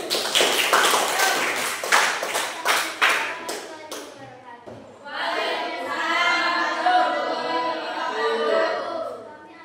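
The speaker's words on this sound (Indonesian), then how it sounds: "Tepuk tangan dulu." Brief burst of group applause from a training-session audience welcoming a presenting team, sharp claps for about four seconds, followed by a person speaking alone.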